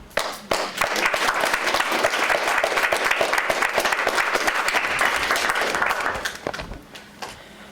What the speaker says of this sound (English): Please join me in a hearty round of applause for Professor Gavlik.